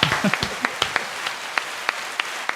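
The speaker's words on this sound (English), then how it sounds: "You got the fake applause now?" A canned applause sound effect plays during a casual podcast, a bed of crowd clapping with distinct sharp individual claps popping out at irregular intervals.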